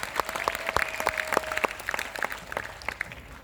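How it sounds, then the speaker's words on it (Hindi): An audience applauds at a live comedy show: loose, scattered clapping of moderate density, irregular and fairly close, lasting a few seconds without speech. "तालियां बजा के बताओ यार"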